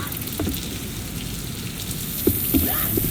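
Steady rain pours across a surface in the Left 4 Dead 2 Hard Rain campaign, a dense continuous wash with a few brief sharper knocks near the end, no talk.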